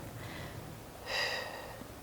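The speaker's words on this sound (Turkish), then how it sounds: "Alırken burnundan nefes al." A single audible inhale through the nose during a posture and spine exercise session, brief and close, rising then fading over faint room noise.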